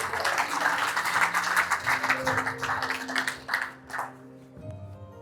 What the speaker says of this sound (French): On nous applaudit mon Dieu pour ça.